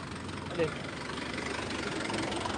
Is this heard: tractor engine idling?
yes